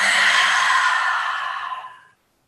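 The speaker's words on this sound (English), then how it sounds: "close your eyes and breathe in and release" A single deep meditative breath, mostly the long, soft exhale: a breathy rush that starts full and close, then slowly thins out and fades to silence after about two seconds.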